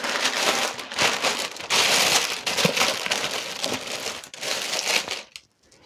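A fabric book pouch is folded in half by hand, giving a steady crinkling, rustling texture in several bursts that stops abruptly near the end, close and fairly loud with no voices.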